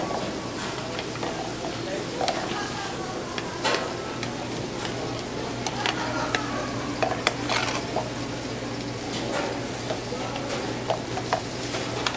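Stuffed mushrooms topped with cheese sizzle steadily in a hot pan, a continuous close frying hiss with occasional sharper pops and faint utensil clinks, while a voice talks over it at times.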